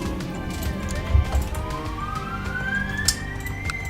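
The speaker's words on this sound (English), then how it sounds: "Police cars outside" A police car siren in the video game Crusader Kings 2 wails and rises in pitch in the distance, heard over a low rumble of background noise and occasional thumps.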